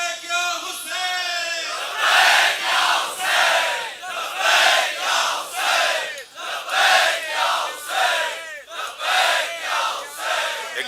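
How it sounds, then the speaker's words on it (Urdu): A large crowd at a Muharram majlis in Nister Park, Karachi, chants a religious slogan together in loud, rhythmic bursts that repeat steadily, rising and falling in unison. "آپ سب ایک نعرے کی صورت میں عہد کریں کہ اس سے زیادہ لوگ آئیں گے. لبیک یا حسین"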